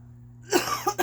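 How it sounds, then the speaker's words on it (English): A few sharp coughs after a quiet start, one thick burst followed by two shorter ones in quick succession, close and fairly loud. "it's like I can't make a video without coughing"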